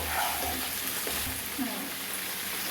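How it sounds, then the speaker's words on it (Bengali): Bottle gourd greens and potato stir-fry in a pan with a steady, close hiss of frying oil and a faint scrape of stirring running through the whole stretch. "এই লাউ শাক আর আলুটা এর মধ্যে দিয়ে দিলাম দিয়ে দেওয়ার পর কিছুক্ষণ আর একটু নাড়িয়ে নেবো"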